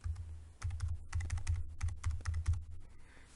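Quick, uneven keystrokes clatter on a computer keyboard as information is typed into a form, close and clear, in short bursts with brief pauses between.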